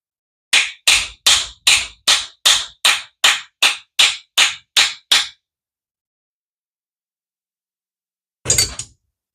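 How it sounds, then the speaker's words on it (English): Twelve sharp, evenly spaced metallic hammer blows drive a brand new bearing onto a part of a Penn International 12H fishing reel during repair, loud and close, then silence and one final strike. "It's always a great idea to hammer a brand new bearing on,"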